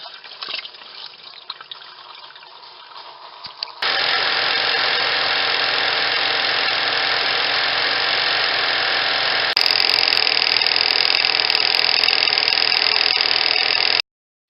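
A washing machine spins out a light blue washcloth: a quiet churning gives way to a loud, steady mechanical whir with running water that steps up in pitch and then cuts off abruptly.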